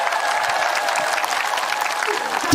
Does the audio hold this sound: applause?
yes